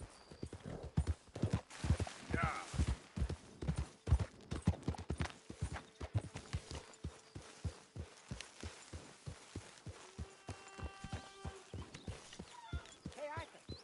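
Horse hooves clip-clopping in the video game Red Dead Redemption 2, a steady rhythmic series of hoof thuds at a walking pace, fairly close, with voices talking over parts of it.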